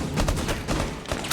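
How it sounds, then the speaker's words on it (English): Rapid gunshots in Rainbow Six Siege, a string of sharp cracks repeating every fraction of a second, loud and close, with no talk over them. "Gunshots to cover the sound, and it works out great for United."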